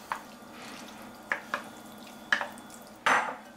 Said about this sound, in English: Now we just want to stir it up a little bit